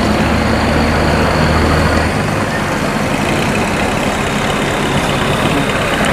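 Barge engine rumbling as the vessel drives out through the Tà Niên saltwater sluice gate, a loud, steady low drone with heavier throb early on, continuous throughout with no clear speech over it.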